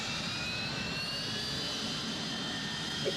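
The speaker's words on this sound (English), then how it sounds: "Okay, Trubshaw, show me some aerobatic." Aircraft engine roaring during aerobatics, a steady, loud, broadband drone that stays level for the whole stretch with no talking.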